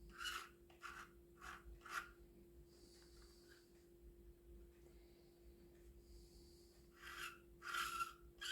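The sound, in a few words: light sanding of model ship's top edge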